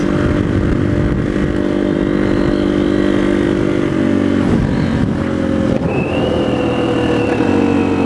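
A motorcycle engine revs loudly and close, a steady throbbing idle that swells into sharper revs near the middle and again later, with a high whine rising over the end.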